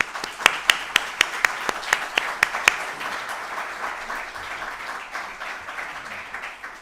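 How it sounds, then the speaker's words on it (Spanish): An audience at a prize ceremony for the Mariano Lacambra award in Barbastro breaks into applause, opening with a series of sharp, evenly spaced claps up front, then settling into a steady wash of clapping that slowly fades. "Entonces, un aplauso para Carmen y su trabajo."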